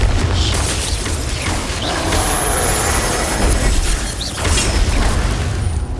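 Dense booming blast and rumbling from spellcasting combat in Hogwarts Legacy, a steady loud roar of explosive energy with sharp bursts over about six seconds, no talk.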